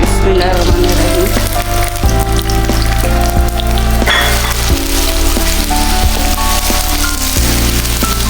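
Loud, steady sizzling of sliced medium onions frying in a cup of oil in a kadai. The dense crackle runs without a break, with occasional faint clinks mixed in and no voices.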